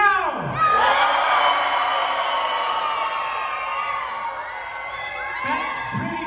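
A festival crowd at Deer Shed Festival cheers loudly in response to a mock trial show, a sustained roar of voices with high children's shouts and whoops rising and then fading.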